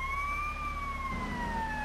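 A police car siren wails steadily in GTA Vice City, a sweeping electronic tone sounding close and prominent over a low rumble of traffic and engine noise.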